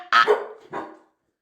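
A dog gives two sharp, close barks, the first louder and the second a shorter follow-up, then falls silent.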